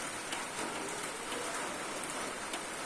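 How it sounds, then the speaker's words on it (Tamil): Steady, dense rain pours down in strong wind during a possible storm, with trees swaying hard; a constant close hiss with no voices. "நல்லா காற்று வீசிக்கிட்டு இருக்கு, மழையும் பெஞ்சிக்கிட்டு இருக்கு."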